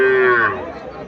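At a cattle market in Comilla, where Sahiwal heifer calves are sold, a calf gives one short, near moo that fades under the crowd noise.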